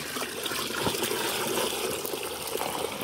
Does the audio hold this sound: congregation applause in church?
no